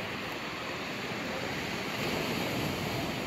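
Winter surf washes steadily onto Massandra beach in Yalta, Crimea, a continuous broad wash of breaking waves mixed with wind noise on the microphone, swelling slightly louder toward the end.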